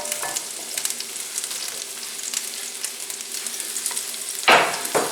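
Sixteen ounces of mushrooms sizzle in olive oil in a pan, a steady close crackle with light scraping as they are stirred, then a sharper clatter of the spoon near the end; no one speaks.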